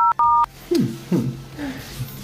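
Two quick touch-tone beeps of a phone number being dialed sound close up, followed by a voice speaking Thai over faint background noise.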